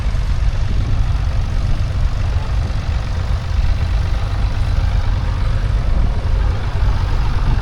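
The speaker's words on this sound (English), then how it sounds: "Here's a BSA M20." A BSA M20 military motorcycle runs at a steady idle at an outdoor steam rally in Kent, its low, thumping engine note loud and close, with no pauses.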